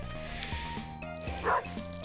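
Dog in the video game Stardew Valley giving a short yip or whimper over a low, steady game music background.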